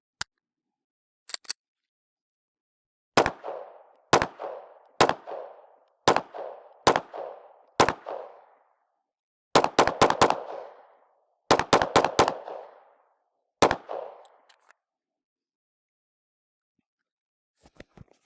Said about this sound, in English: We're gonna shoot a few rounds here just so you can see the recoil stuff